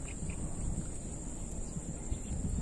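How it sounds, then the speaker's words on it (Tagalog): Steady, heavy wind rumble buffeting the microphone while fishing outdoors, a continuous low roar with gusty fluctuations and no speech. "Malakas ang hangin, oh."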